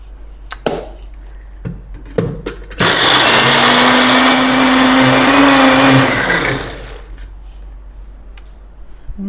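A countertop blender whirs loudly for about three seconds while blending aquafaba mayonnaise, starting abruptly and winding down, with scattered knocks and clatter from handling before and after.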